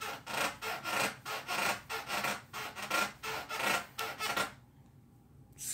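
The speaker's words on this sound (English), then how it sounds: "I think there's like a rusty spring or it's like wearing out" Bed with a worn, rusty spring creaking in a steady rhythm of about a dozen scratchy, rubbing squeaks close by, then going quiet.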